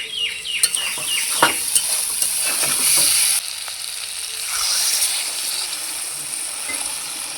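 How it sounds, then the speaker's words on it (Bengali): Pointed gourd and potato being fried with spices in a pan, a steady sizzle with several quick stirring scrapes early on, then settling into an even, close frying hiss. "মশলার সঙ্গে পটল আলুটাকে ভালোভাবে কষিয়ে নিলাম।"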